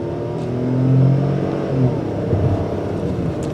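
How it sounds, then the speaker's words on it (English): A 2022 Ford Bronco Sport Big Bend with its 1.5-liter EcoBoost turbo engine gives a steady, mild exhaust drone with a gentle rise and settle in revs, smooth rather than throaty, heard alone. "Not a throaty exhaust,"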